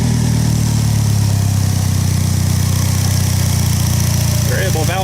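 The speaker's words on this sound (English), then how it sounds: "Variable valve timing, double overhead cam engine. Got a little bit of a burr to it. A little bark, not too bad." A car's variable valve timing, double overhead cam engine idles close by with a low, steady, slightly rough burble and a faint bark, running continuously and loudly throughout.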